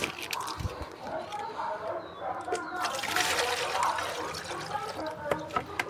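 Water sloshes from a bucket over a muddy, rusted bike being washed outdoors, a continuous splashing and trickling at close range, with voices talking over it.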